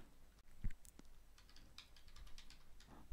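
Quiet, scattered keystrokes tap on a computer keyboard, faint and irregular against a soft background, with no one speaking.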